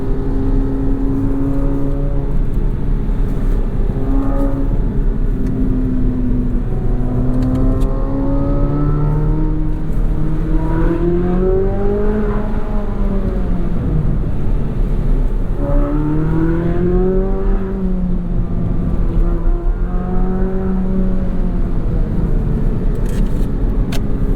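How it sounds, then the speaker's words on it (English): A 2023 Chevrolet Corvette Z06 sports car engine runs continuously with rising and falling revs, a throaty drone swelling and easing as it drives, loud and close throughout. "you can hear the car even when you're not getting on it too hard"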